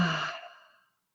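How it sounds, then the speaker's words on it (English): One slow, soft exhale during a gentle mindfulness breathing exercise, starting close and breathy and fading smoothly to silence in about a second. "and breathing out."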